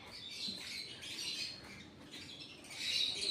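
Small birds chatter and squawk in a steady high-pitched twitter, fairly faint and continuous, with a brighter burst of calls near the end.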